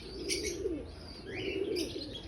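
Racing pigeons returning to the loft during training in Pasacao, soft repeated cooing calls with faint chirps and brief wing flaps, close by and without speech.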